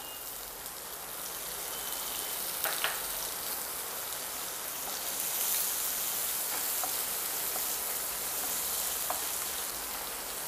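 Finely chopped onion frying in hot oil with cumin, mustard seeds and curry leaves for samosa filling, a steady soft sizzle with scattered small crackles and pops throughout and no talking.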